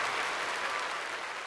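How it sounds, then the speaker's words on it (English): Brief applause from a small audience in a band-focused discussion setting, a soft continuous patter of clapping that stays fairly quiet and fades slightly toward the end. "I feel I need to give that some applause."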